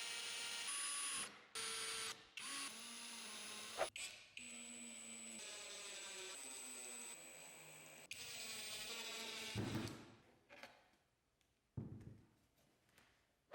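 A power drill bores holes through a plexiglass sheet supported on scrap wood, a sustained whining grind broken by short stops and restarts, followed by scattered clunks and handling noises as the drilling ends.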